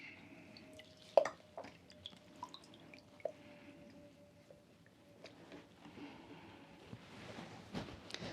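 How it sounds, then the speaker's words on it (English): Water drips and splashes faintly while hands are rinsed of a gritty basil and lemon scrub, with scattered small drops, soft squishing and trickling, quiet and close, without talking. "I'm just going to wash that off my hands."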